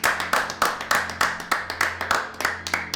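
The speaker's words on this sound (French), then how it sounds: "Vous pouvez vous applaudir." Small group of course participants clapping for themselves, a loose rhythmic patter of distinct hand claps, fairly close and steady, about a dozen clearly separated beats with no speech.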